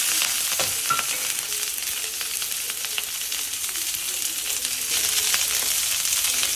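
Mustard seeds, chana dal, onion and green chili tempering in hot oil, a constant close sizzle with scattered crackles and pops.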